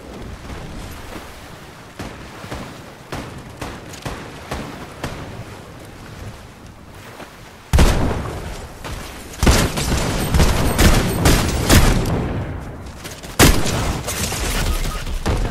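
Bursts of gunfire in a video game, first a steady run of sharp shots, then louder, denser volleys with heavy booms, close and dominant with no talk over them.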